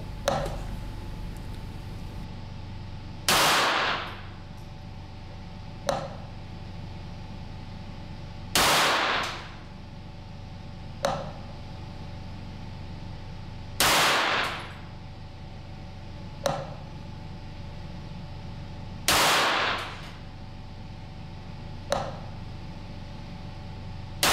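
Four sharp rifle shots fired with Eley Standard bulk ammunition, evenly spaced about five seconds apart, each followed by a fainter metallic clang of the bullet striking a distant target, against a quiet background hum.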